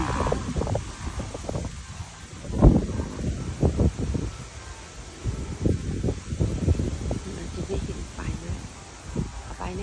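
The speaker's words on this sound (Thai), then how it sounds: "ลมลมแรงฟ้าก็เริ่มมืดครึ้ม" Strong gusty wind under a darkening sky during a Thai rocket festival procession, buffeting the microphone in uneven surges and flaps while someone talks over it.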